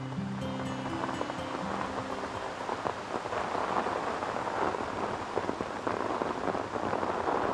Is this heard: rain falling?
yes